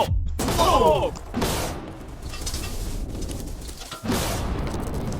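Loud, bursting blasts of TNT crackle and rumble in quick succession, video-game explosions with a few sharp cracks and dense debris-like noise.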